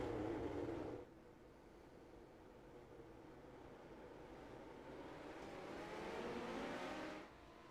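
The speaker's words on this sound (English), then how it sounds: "Back to green flag racing at the Chilli Bowl." Midget race cars racing at the Chili Bowl, an indoor dirt track, heard as a distant, steady engine drone that swells and fades as the field passes.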